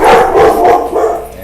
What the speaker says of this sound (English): And the dogs are going off.